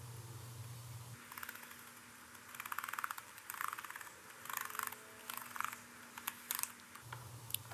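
Keys on a Lenovo 100e Gen 4 Chromebook keyboard are pressed in quick clusters during a built-in keyboard test after a palm rest replacement, giving close, light plastic clicks and taps over a faint steady tone.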